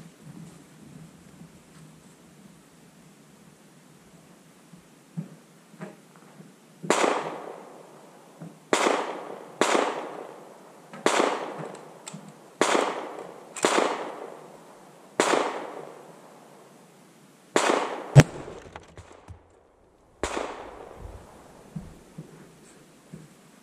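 Rifle fired with a 300 PRC round, about ten sharp booming shots spaced a second or two apart, each with a long rolling echo fading out, with no talk.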